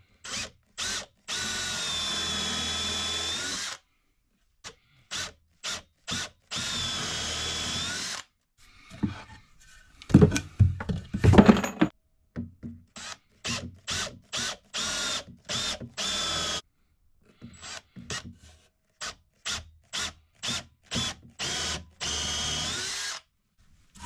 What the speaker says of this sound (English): use my countersink bit to pre-drill my screw holes